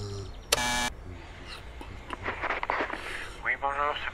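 A doorbell rings at the door of a NASA base in an animated cartoon, a brief loud electronic buzz of under half a second, followed by cartoon voices talking.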